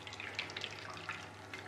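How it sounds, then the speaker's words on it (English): Homemade almond milk, made from almonds and water, is squeezed through a strainer, producing a steady close wet trickling and splashing with small bright drips throughout. "So you just want to squeeze out as much of the milk as you can."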